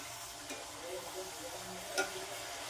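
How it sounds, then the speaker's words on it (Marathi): Hot oil for deep frying jowar puris with green chilli gives a steady, soft hiss and fizz throughout, with a faint tick near the end and no voices. "पुरी तळण्यासाठी तेल कडकडीत गरम केलेलं आहे,"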